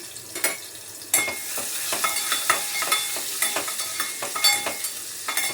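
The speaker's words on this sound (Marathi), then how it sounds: "लसूण थोडासा लालसर करून घेते म्हणजे छान." Crushed garlic fries in a pan, giving a continuous bright sizzle broken by frequent scraping stirs and little spitting bursts, close and fairly loud, with no voices.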